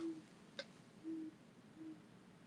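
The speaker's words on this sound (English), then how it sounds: "You can hear the owl? Yeah, it's hooting." An owl hooting from a tree beside a house, three soft low hoots spaced about a second apart, faint and distant against quiet background hiss, with a single sharp click in between.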